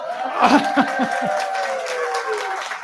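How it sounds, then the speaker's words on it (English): A brief burst of audience applause at a Sunday church service, with a few sharp claps early on that quickly thin out beneath a sustained tonal background and some voices. "people wanted to give you another round of applause"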